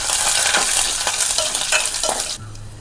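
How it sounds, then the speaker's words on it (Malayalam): A handful of black peppercorns roast in a hot pan for coriander rasam, stirred with soft scraping, light sizzling and small rattling clicks that stop abruptly near the end. "ഒന്ന് ആഡ് ചെയ്യാം അഞ്ചാറ് കുരുമുളക് ഓക്കെ നമുക്കിതൊന്ന് നല്ലതുപോലെ ഒന്ന് മൂക്കട്ടെ"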